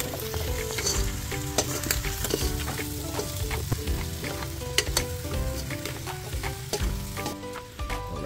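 Shrimp paste (alamang) hissing and sizzling steadily in a hot pan, a dense continuous crackle with small pops throughout and no talking.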